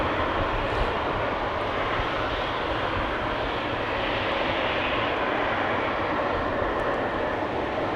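Turkish Airlines jet engine noise forms a steady, moderately distant broadband roar at Amsterdam Schiphol, continuous with no talk.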